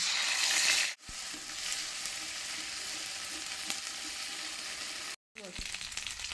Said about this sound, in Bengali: একটু ভাজা হয়ে গেলে তাতে আমি 2 চামচ আদা কাঁচা লঙ্কা বাটা দিচ্ছি।